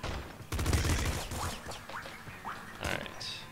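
Rapid bursts of video-game gunfire in Nuclear Throne hit rats, coming as dense, loud volleys with squeaky hit and creature sounds mixed in, and no speech.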